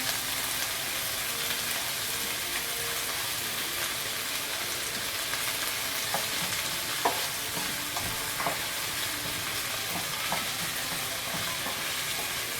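Broth goes into a hot pan, giving a continuous loud sizzle and bubbling hiss with a few light clinks of utensils, close by and without talk.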